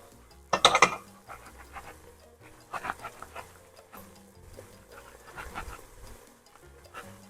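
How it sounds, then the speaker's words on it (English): Minced garlic tossed with a utensil in a hot pot while cooking pork chile verde: one loud metallic clatter at the start, then lighter scattered clinks and scrapes close by, with no talking. "We're just going to toss this around until the garlic gets fragrant."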